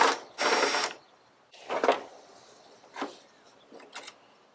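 Screws being backed out of the headlight trim on a Jeep Cherokee XJ, heard as a few short, close ratcheting and rasping bursts separated by quiet gaps.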